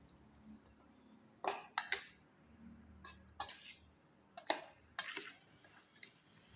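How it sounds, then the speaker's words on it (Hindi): A spoon mixing marinated chicken for biryani in a bowl, soft wet squelches and scraping clinks in irregular bursts, fairly quiet and close, without talk. "अब मैं इसको चम्मच के साथ मिक्स कर लूँगी।"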